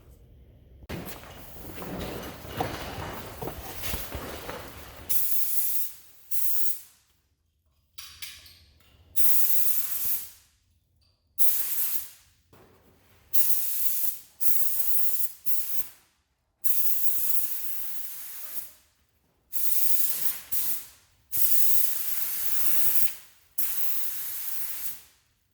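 Spray gun laying epoxy primer onto the body of a 1974 Corvette Stingray: one long hissing pass, then about a dozen short, sharp spray bursts separated by silent gaps, close and fairly loud.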